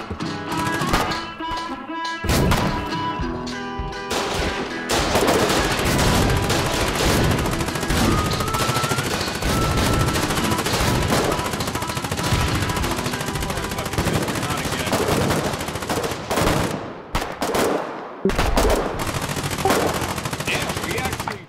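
Rapid machine gun fire in the Foxhole war game, dense continuous bursts with short pauses, loud and close, with occasional background talk between volleys.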